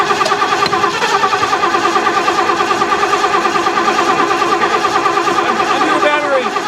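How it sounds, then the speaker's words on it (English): A starter motor keeps cranking the engine of a classic American luxury car under restoration, a steady fast whirring churn that runs unbroken, close and loud, with faint voices in the background. "Oh, the starter's still going."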